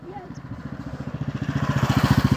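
A motorcycle on a mountain road in Ladakh, between Pangong Tso and Chang La pass, gives an even, rapid thumping engine beat that grows steadily louder as it approaches.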